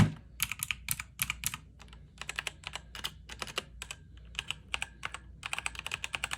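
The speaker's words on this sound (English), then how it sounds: "this is my keyboard for work, but this is my brown switches" Key presses on a mechanical keyboard fitted with brown switches ring out crisply and up close, arriving in fast, irregular bursts of clacks with brief pauses between runs.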